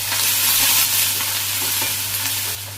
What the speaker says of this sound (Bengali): পেঁয়াজটা হালকা ভাজি করে নিলাম, দিয়ে দিব এখানে রসুন বাটা